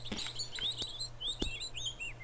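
Birdsong in the Venice level of Tomb Raider 2: faint, repeated high chirps and tweets over a low hum, broken by soft clicks.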